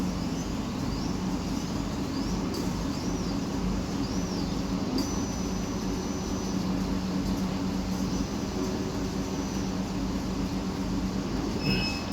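HL 1060 100W CO2 laser cutting and engraving machine running, with a steady, loud droning hum throughout and faint, rising-and-falling motor whirs as the head moves.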